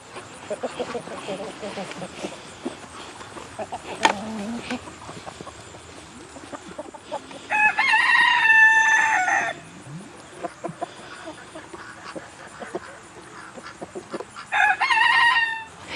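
Chickens, including silkie bantams, cluck and murmur throughout, with two loud rooster crows breaking through partway in and near the end; a person speaks briefly.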